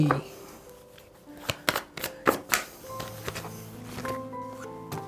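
Tarot cards being shuffled and drawn, a run of soft riffling flicks and slaps clustered in the middle, with a voice speaking faintly underneath.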